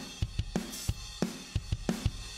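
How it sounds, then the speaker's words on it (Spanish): A heavily compressed drum kit bus with aggressive parallel compression: punchy kick and snare hits in a steady groove, close and dense, with a squashed, tight sustain and no talking. "este es el sonido de la batería comprimida"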